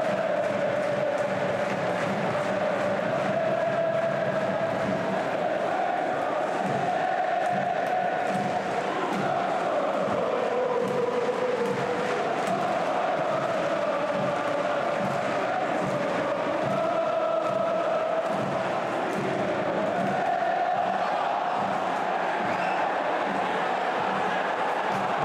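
A football crowd at a Cardiff City versus Swansea City match roars and bays continuously for a free kick for Cardiff, a dense, sustained wall of voices with rising and falling swells throughout.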